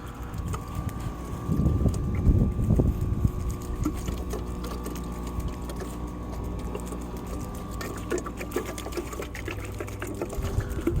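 A garden hose sprays water onto slow-release organic fertilizer spread over garden soil, a steady hiss and patter with a louder splashing burst early on, with light wind noise.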